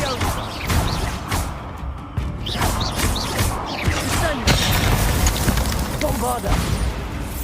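Bombarda spell explosions in the video game Hogwarts Legacy: heavy booming blasts and crashing debris roll continuously over a dense battle din, with voices mixed in.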